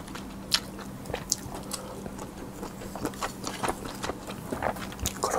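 Close-up biting and chewing of a corn dog dipped in ketchup, with crisp crunches and soft, moist chewing in an irregular rhythm and no talking.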